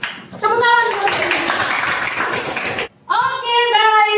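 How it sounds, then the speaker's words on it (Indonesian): Schoolchildren in a classroom clap their hands in a dense burst lasting about two and a half seconds, with a child's and an adult's voice speaking just before and after. "Tepuk tangan."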